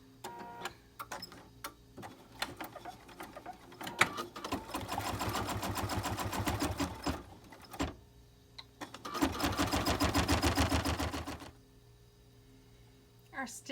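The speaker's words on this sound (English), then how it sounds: "It's going to sew from the bottom of the bag all the way around and almost back to the beginning." An embroidery machine stitches a quilted zipper bag in the hoop, running in two long steady bursts of rapid rhythmic needle clatter with brief pauses and softer handling sounds between them, fairly close and with no talking.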